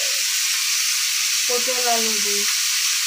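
Pointed gourd, potato and tomato fry together in a pan for a curry, giving a constant loud sizzling hiss throughout, with a brief voice breaking in over it midway.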